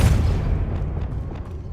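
A Confringo blasting spell detonates in a wizarding fantasy game, a heavy low boom that hits hard at once and then rumbles and decays, with faint crackling debris trailing behind.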